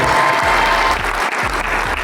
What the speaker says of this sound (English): Can you give her a loud round of applause?